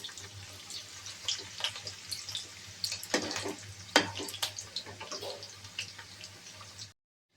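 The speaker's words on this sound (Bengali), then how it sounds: "গ্যাসের মিডিয়াম লো ফ্লেমে পেঁয়াজটা একটু হালকা ব্রাউন করে আমি বেরেস্তা তৈরি করে নেব" Chopped onions fry in a pan over a medium-low gas flame, giving a soft, steady sizzle with scattered crackles and pops. The sound stays fairly quiet and close, then cuts off abruptly near the end.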